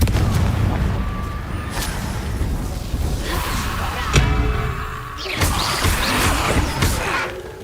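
Fiery blasting spell explosions in a Harry Potter video game, a dense run of sharp bangs and whooshing bursts with crashing debris, loud and busy throughout with a voice calling out.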